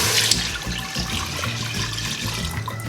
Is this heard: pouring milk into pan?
yes